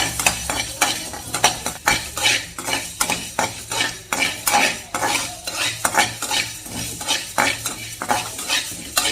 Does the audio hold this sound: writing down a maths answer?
no